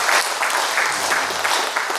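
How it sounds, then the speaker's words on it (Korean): A conference audience at a Christian social welfare panel discussion breaks into applause, a dense, steady patter of many hands clapping throughout, fairly close and loud. "박수 한번 쳐주시기 바랍니다."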